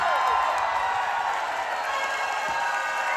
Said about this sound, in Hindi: जोरदार तालियां मंगल भाई के लिए।